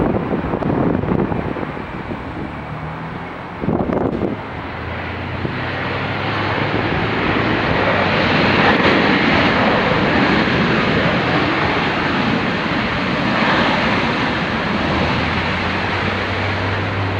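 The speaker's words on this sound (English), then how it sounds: "here comes the 737-900" A Boeing 737-900 airliner approaches at Dulles Airport, its steady broadband engine roar building and holding loud and close, mixed with wind buffeting the microphone.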